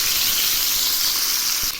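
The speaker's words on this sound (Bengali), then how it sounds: "এখন আমি ওই তেলেই মাছ ছেড়ে দিচ্ছি।" Bata fish sizzles loudly in hot oil, a dense close hiss of frying that stays constant before easing slightly at the very end.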